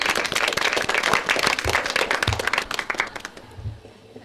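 An audience claps at a talk on diet and health, a burst of dense applause that swells and then fades out toward the end.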